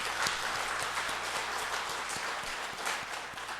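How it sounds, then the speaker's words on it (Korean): A church congregation claps together in dense, sustained applause that holds steady throughout, with a faint tonal hum underneath. "우리 박수로 하나님께 먼저 영광을 한번 돌립시다"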